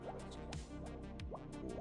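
Water drips and plops into a sewer pipe in a grimy dieselpunk building video game, with quick repeated liquid drops over a dense, busy game background.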